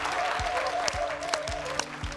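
An audience at a woodwork builders show claps in a short, modest round of applause, with a handful of distinct claps standing out over a low murmur.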